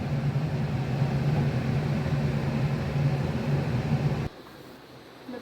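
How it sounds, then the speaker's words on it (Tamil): A steady low bubbling rumble of coriander kashayam, an herbal decoction, boiling hard in a pot, continuous and fairly loud, then dropping suddenly to a quieter hiss near the end. "இந்த பார்த்தீங்களா, தரன்னு கொதிக்குது"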